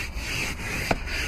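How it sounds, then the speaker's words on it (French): A stiff brush scrubs a car floor mat, giving a continuous close scratchy rubbing with short strokes and a small knock partway through, and no voices. "Après ça, tu vas utiliser la brosse."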